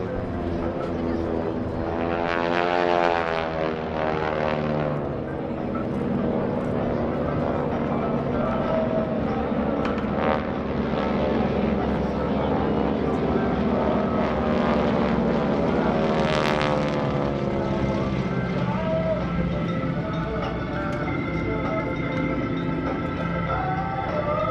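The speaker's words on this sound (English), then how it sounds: "Follow the aircraft as they descend and converge over the same point to demonstrate an air-to-air" GEICO Skytypers propeller aircraft descending and converging over one point at the 2016 NAS Oceana airshow, a steady loud engine drone with rising and falling pitch as the planes pass, while an announcer talks over it.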